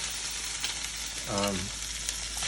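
Fresh shrimp frying in a pan for shrimp with tomatoes and capers, giving a steady close sizzle throughout with a brief tonal squeak of the pan partway through, no voices.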